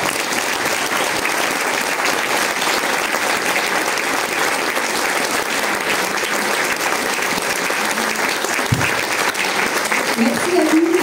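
Audience at a conference on endocrine disruptors gives sustained, even applause lasting the whole stretch, dense and loud, with a brief thud and faint voices emerging near the end.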